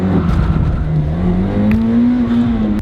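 Toyota Celica rally car pulling away from a standstill, its engine note climbing steadily in pitch as it accelerates hard, loud and close with a rough, buzzy exhaust and no talking.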